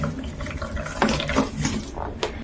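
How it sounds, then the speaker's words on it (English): Hot boiled water poured into a bucket over straight braiding hair, a continuous splashing and gurgling with a few sharper splashes and clunks, close by. "Then I'm going to add hot water, boiled water to the hair"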